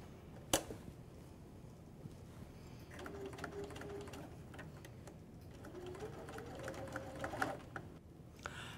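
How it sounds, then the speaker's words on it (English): Soft, fairly faint sewing machine stitching a half-inch seam around a fabric kitchen towel piece, with short whirring runs, light mechanical ticking and a sharp click near the start. "I'm going to sew around the other sections of the piece with a half inch seam"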